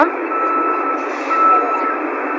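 Manhattan street noise with a truck's reversing alarm beeping loudly and continuously up close, a steady piercing tone over a dense urban roar.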